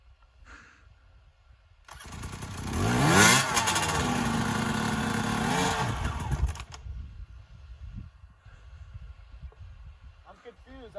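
A motorcycle engine starts up and runs loudly for several seconds, revving and clattering close by, then drops away to quieter background with faint voices.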